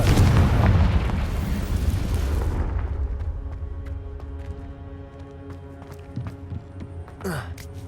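A Confringo spell blast in the Hogwarts Legacy game bursts with a loud rumbling boom that fades over a few seconds into quieter game ambience, followed by a brief swooshing effect near the end.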